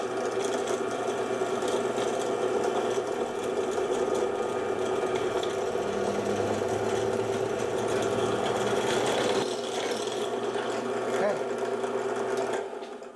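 A drill whirs steadily while boring through a part, a close continuous motor whine that winds down near the end, with a voice heard faintly.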